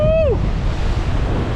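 Huge storm waves and a strong gale on the Crimean sea coast: a steady, loud rushing roar of surf and wind buffeting the microphone, opened by a short rising voice whoop.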